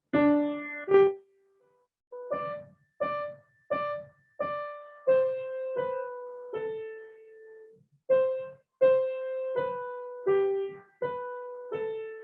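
Piano right-hand melody of Mr. Haydn's Theme in a beginner lesson, about a dozen separate plucked-sounding notes in an even, unhurried rhythm, close and alone.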